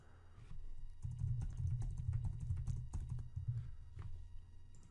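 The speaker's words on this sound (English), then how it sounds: "now you can start typing whatever you want" Quiet, rapid typing on a computer keyboard, a run of soft keystrokes over a low thudding rumble, with no voices.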